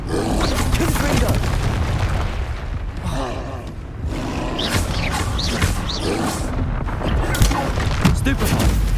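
Confringo spells exploding in Hogwarts Legacy: repeated loud booms and blasts mixed with combat effects and creature roars in a dense, chaotic fight, with spoken spell incantations heard over the clamour.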